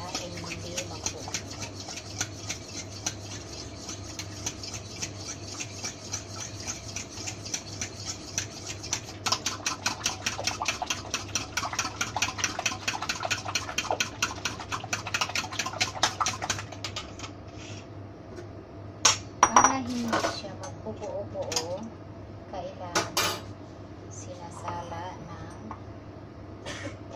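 Eggs and water whisked in a bowl for steamed eggs, a fast steady rattling clatter of the whisk against the bowl for about seventeen seconds, then scattered knocks and clinks; a voice speaks over parts of it.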